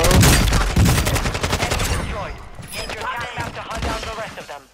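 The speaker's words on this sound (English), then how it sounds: "Ooh, wait, somebody sniping." Rapid bursts of rifle fire from a video game firefight crackle loudly at the start, then thin into scattered sharper shots. Overlapping voices talk throughout.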